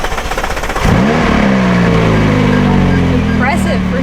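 A McLaren 570S Spider engine starting up: a brief cranking, then a loud catch and rising flare of revs settling into a steady, throaty idle close by, with a voice speaking over it.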